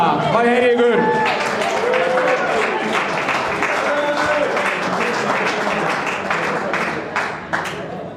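Audience applause fills a darts championship final hall, dense clapping sustained throughout with voices and cheers mixed in, staying loud before tapering slightly near the end.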